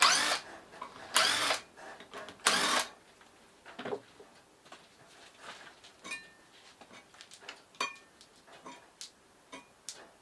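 Bolts being undone on a Land Rover Discovery 1 front axle part on a workbench: several loud bursts of a power tool at the start, then a series of faint clicks and metallic ticks.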